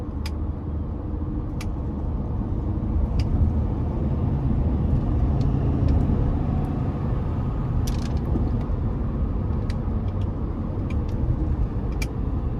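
A 2022 Ford F-350 Limited Dually's 6.7-litre turbo engine rumbles steadily from inside the cab, its drone rising and easing as gears change in manual mode, with faint clicks scattered throughout.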